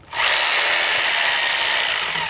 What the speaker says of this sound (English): what you're going to need for the leg supports is a hammer drill and a 1/2 inch masonry bit